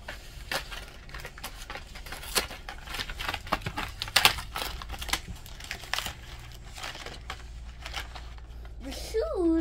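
Toy packaging with a T-Rex printed on it is torn and crinkled open by hand, giving a steady run of close plastic and cardboard rustles, rips and crackles, with one sharp tearing burst partway through.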